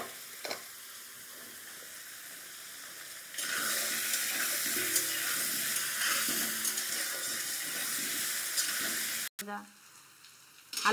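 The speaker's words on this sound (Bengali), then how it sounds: "তো আলুগুলো প্রথমে ভেজে নেব।" Potatoes drop into hot oil and a loud, broad frying sizzle starts abruptly and holds steady for several seconds, briefly cut off near the end before a quieter return; a softer background hiss precedes it.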